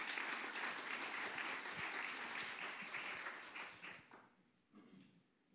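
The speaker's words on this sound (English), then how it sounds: "Would you give him a very good round of applause?" Audience applause for a guest speaker at a University of Salford talk, a dense steady wash of clapping that holds for about four seconds, then thins out and fades, with a brief last flurry near the end.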